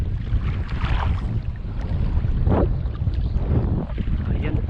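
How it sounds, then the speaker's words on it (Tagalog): Strong wind buffets a small fishing boat off the islands of Palawan during ultralight fishing, a loud steady roar of gusts and wind noise with water sounds underneath. "Medyo malakas yung hangin ngayon."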